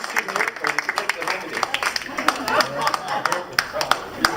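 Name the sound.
audience applause for a magic trick volunteer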